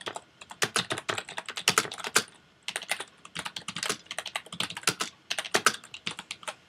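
Rapid typing on a computer keyboard, close and crisp, with bursts of clustered keystrokes separated by brief pauses and one longer gap midway.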